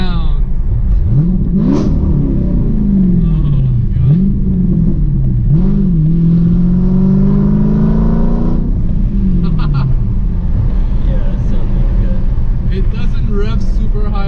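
A Dodge Challenger Scat Pack with a Hemi V8 revs loudly and close, its engine rising and falling in several blips before one long climb that cuts off, then settling into a deep idle rumble.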